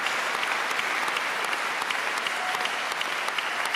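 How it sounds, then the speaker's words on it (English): Audience applause fills a concert hall at the final round of the Van Cliburn International Piano Competition, dense and sustained clapping from a large crowd without a break. "And yes, you can clap for that one too."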